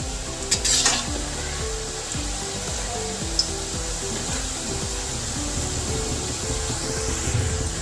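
Namak pare, salty fried dough pieces, sizzle steadily in hot oil while being flipped and stirred, with a few scraping clicks of a utensil over a continuous bubbling crackle and no talk.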